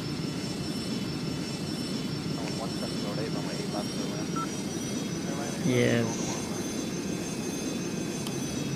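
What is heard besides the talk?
four-engine aircraft engines in Airline Commander video game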